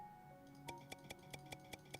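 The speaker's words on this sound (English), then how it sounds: "Probably hear my clicking." Computer mouse clicking during a Stonehearth game session, a run of about nine sharp, quiet clicks in a fairly even rhythm over a low background hum.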